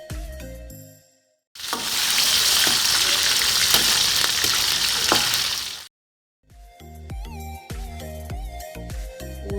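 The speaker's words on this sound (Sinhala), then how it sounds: "මුලින්ම මම එළවලු තෙල් ටික තාච්චියට දාලා රත් පීගෙන එනකොට ඌරු මස් ටික එකතු කරලා හොඳින් බැද ගන්නවා" Pieces of pork hit hot vegetable oil in a pan and fry with a loud, steady sizzle for a few seconds, with light stirring clinks, set between short stretches of background music.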